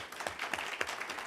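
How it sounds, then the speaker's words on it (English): A crowd applauds with steady, dense clapping that holds at an even level throughout, with no voices over it. "Let's all give our panel a round of applause."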